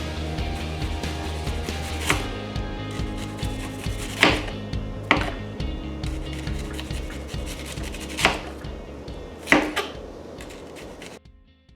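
A knife slices onions into rings on a cutting board, several firm chops spaced a second or two apart over a low rubbing, scraping background, close and clear with no talking.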